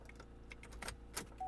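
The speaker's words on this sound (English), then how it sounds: "Insert key into ignition switch, on, then off, and remove key for 5 seconds, and repeat to program other keys." A car key is inserted into an ignition switch, giving a few quiet metallic jingles and small clicks up close, followed by a faint electronic tone.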